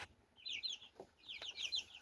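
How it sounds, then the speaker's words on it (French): Incubator-hatched chicks peep in quick, faint, high chirps, two short bursts separated by a brief gap. "Donc maintenant on va aller voir les autres poussins."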